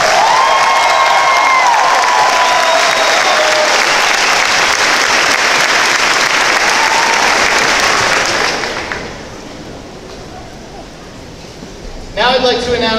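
Graduation audience at a Class of 2017 ceremony applauding and cheering loudly, a dense roar of clapping with whistles and shouts that drops off abruptly after about nine seconds, followed by a brief burst near the end.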